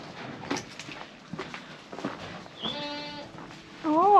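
Light shuffling and footsteps on a homestead farm, then a goat's bleat rises clearly near the end, close and loud.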